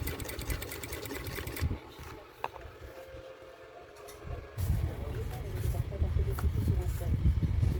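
Sewing machine stitching a zipper onto clear plastic with a presser foot, whirring in steady loud bursts, pausing briefly in the middle before running again.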